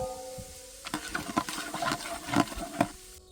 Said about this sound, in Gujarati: તો હવે નાખશું આપણે આપણા ખડા મસાલા જીરું, હિંગ, જાવંત્રી, બાદિયા, લવિંગ મરિયા, નાની ઇલાયચી, મોટી ઇલાયચી